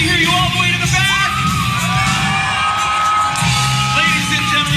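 A huge convention crowd of thousands at LA Comic Con yells, whoops and cheers continuously in a dense, loud wash of voices that fills the space without a break.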